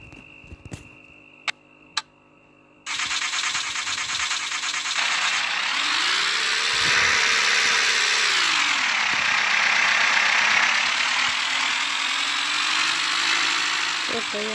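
A pickup truck engine with a stalling problem turns over after a few sharp clicks and then holds a loud, steady idle hum with a faint rattle for the rest of the clip.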